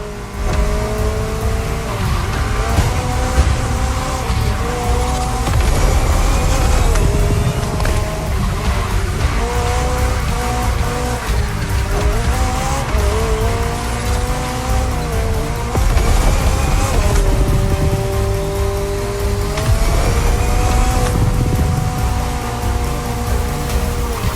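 An open-top McLaren in The Crew Motorfest drives hard, its engine revving and shifting through gears in a loud, continuous roar with rising and falling pitch, tire noise underneath, and no talking.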